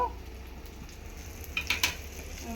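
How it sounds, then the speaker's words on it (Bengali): Slit green chillies, garlic and nigella seeds fry in hot oil with a faint, steady sizzle and a short burst of crackling pops near the end. "লঙ্কাটা ছিটকাচ্ছে বলে টাচটা কমিয়ে নেব।"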